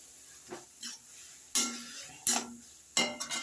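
Tomato with chilli and turmeric powder is sautéed into a paste, making a few distinct scraping strokes of a spoon against the pan over a soft background sizzle, close and fairly quiet.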